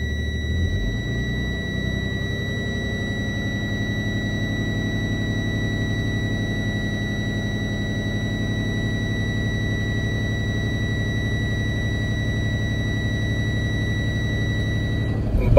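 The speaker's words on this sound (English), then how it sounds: "Above 60, my low air warning alarm is shut off." A truck's air brake system low air warning alarm sounds as a steady, continuous tonal buzz over a low idling engine rumble, holding unchanged for about fifteen seconds with no talking.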